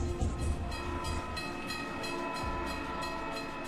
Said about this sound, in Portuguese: O combustível de emergência permite que os trens de passageiros continuem em movimento.